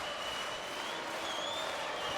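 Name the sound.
crowd cheering at volleyball match for Polish side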